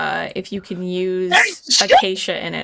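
A single quick sneeze bursts out in the middle of a friendly Minecraft livestream chat, loud and close, with talking heard just before and after it.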